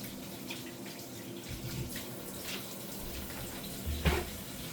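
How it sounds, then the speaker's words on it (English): Running tap water at a kitchen sink while hands are washed, a steady low hiss of flow that continues throughout with a brief louder splash near the end; no talking. "Now I'm going to wash my hands"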